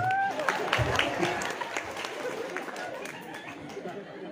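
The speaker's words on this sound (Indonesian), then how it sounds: "Tepuk tangan untuk yang ini" Applause breaks out among the audience at a humorous Islamic sermon, a scattered burst of clapping mixed with crowd chatter and voices, loudest at the start and gradually thinning out.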